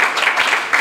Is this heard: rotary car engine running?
no